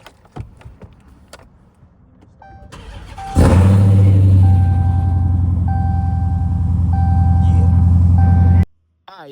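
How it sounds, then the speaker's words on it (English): A Dodge Demon's engine cranks and catches with a loud bark after a few seconds of quiet handling noise. It then holds a heavy, steady rumble beneath repeated electronic chime beeps before cutting off abruptly. "go ahead and crank it up. Yeah, I'm gonna crank it up."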